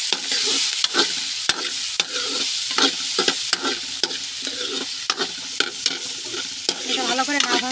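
Tomato frying in a pan for noodles, with a loud, bright sizzle and frequent sharp scrapes of a utensil stirring against the metal at an uneven pace, close up.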